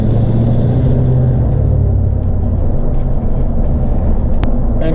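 A vehicle roars past on the road, heard from inside a truck fitted with rear F350 blocks, with a steady loud engine and road rumble throughout and no talk.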